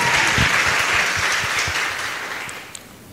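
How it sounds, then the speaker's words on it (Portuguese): Studio audience applauding on a couples' talk show, a bright burst of clapping that swells at once and then gradually tapers off over a few seconds. "Ah, tá bom, aplausos pro Emanuel"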